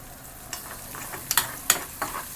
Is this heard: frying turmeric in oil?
yes